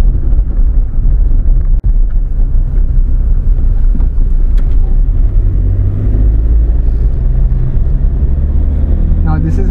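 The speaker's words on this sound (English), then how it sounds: "Now this is how the engine sounds," Engine of a 2014 Mahindra Scorpio SUV while driving, a steady low rumble with road noise filling the cabin, heard close and fairly loud with little variation.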